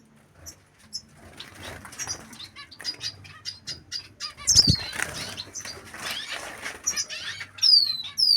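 A small siskin chick flutters in flight, giving soft close wingbeats with light pattering, while faint chirps and tweets from other birds come and go.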